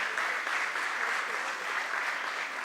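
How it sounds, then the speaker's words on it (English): Dense, continuous applause from a large audience honoring a guest at a discussion event, a steady wash of many hands clapping at even loudness throughout, with no speech standing out. "Can we have a huge round of applause for sir as well?"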